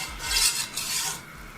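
Fried chicken pieces stirred and tossed in a pan with a spatula while chicken shashlik is cooked, giving scraping, clattering metal sounds with a soft sizzle, a close steady rhythm of strokes with no talk.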